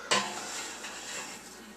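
A cake pan for a Boston cream pie is slid into an oven with a sharp metallic clank at the start, followed by a brief scraping rattle and the faint hum of the oven.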